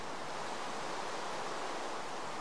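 Rain in the Minecraft video game, a constant soft hiss of falling water that holds evenly throughout without talk.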